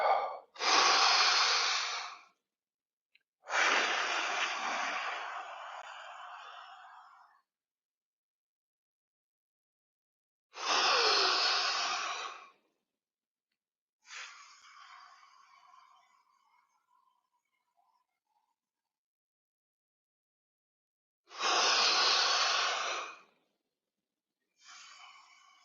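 Slow, deep breaths drawn in and pushed out during a martial arts class warm-up, long airy inhales and exhales separated by silent pauses, close and clear with no talk.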